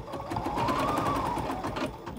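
An embroidery sewing machine stitching a cherry block for a Kimberbell Sweet Land of Liberty pillow, a steady, close, loud mechanical whirr with rapid needle pulses running throughout, no talk.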